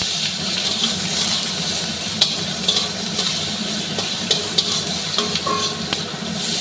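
Sliced onions fry in hot oil already tempered with black cumin and dried chilli, giving a steady close sizzle broken by light stirring clicks and scrapes from a utensil, with no one speaking.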